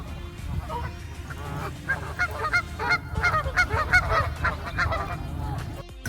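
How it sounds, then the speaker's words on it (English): A flock of geese honks by a lake in cold weather, with many overlapping nasal calls rising into a loud, busy chorus over a steady background hum. "Definitely won't be getting any sleep with the geese"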